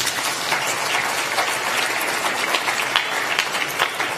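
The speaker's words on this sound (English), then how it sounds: "Can we clap for that?" Audience applause at an annual members meeting of the NSSF, a dense, steady wash of many hands clapping that holds evenly from start to finish, fairly loud and close.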